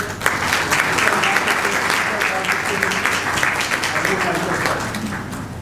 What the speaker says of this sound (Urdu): اب تالیاں بجائیں۔